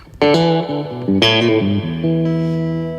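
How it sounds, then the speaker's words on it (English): Electric guitar notes played with a wet, splashy spring reverb, each chord ringing and trailing off into a shimmering decay. "you can really, really get a good spring reverb"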